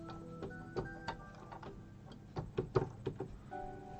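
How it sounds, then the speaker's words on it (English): Glitchy piano preset called Evolve Mutations, played in FL Studio for a dark hybrid trailer cue, gives off faint stuttering clicks and ticks over a low sustained tonal bed, with no talk. "the end piano, which I've renamed as Glitch Piano"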